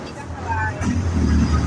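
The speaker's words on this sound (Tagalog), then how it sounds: "ingay nung mga sasakyan dito" Road traffic rumbles nearby in Catalunan Grande with a vehicle passing, low engine noise under a murmur of voices.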